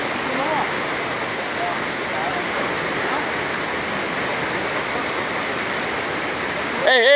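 Fast-flowing river water rushes in a steady, loud broadband roar throughout, with no talk over it.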